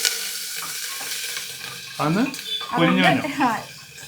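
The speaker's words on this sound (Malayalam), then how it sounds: "അപ്പോൾ എണ്ണ ചൂടായിട്ടുണ്ട്. അപ്പോൾ അതിലേക്ക് ഞാൻ കടുകൊന്നും ഇടുന്നില്ല. ഇഞ്ചിയും വെളുത്തുള്ളിയും കൂടെ ചതച്ചത് ഇടുക കേട്ടോ." Crushed ginger and garlic hit hot oil with a soft sizzle and light stirring, while a person speaks over the frying for much of the moment.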